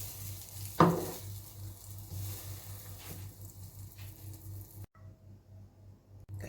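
French toast sizzles and fries in oil in a pan at a low, steady level, with a brief clatter near the start, a few soft scrapes from flipping, and a short drop to near silence toward the end.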